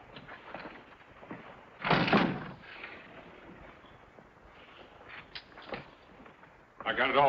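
A door bangs in a 1948 film scene as someone walks out, with a loud burst near the start and another thump at the very end, set against quiet room tone and faint movement.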